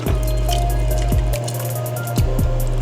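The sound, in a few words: water being poured into an Instant Pot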